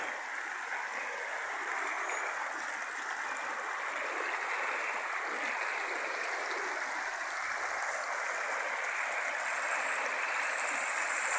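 A clean stream flows steadily at a roadside stop near Morro Alto, Morretes, a soft continuous rush and gurgle of water with no voices.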